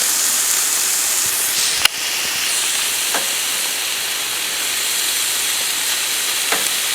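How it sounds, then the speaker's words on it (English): Meat warming in a hot pan gives a steady, close sizzling hiss that runs throughout, with a sharp click near the start and a few faint ticks later, and no talking. "Warming up the meat before we put it on those."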